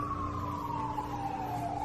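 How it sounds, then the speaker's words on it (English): An emergency siren wails in the distance, a steady tone slowly sliding downward beneath a constant low traffic hum. "there's sirens in the background"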